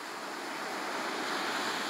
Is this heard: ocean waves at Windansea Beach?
yes